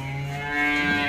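An eight-month-old bovine, one of a large pair of newly arrived sale cattle, lets out a single loud, sustained, close moo that swells slightly toward the end.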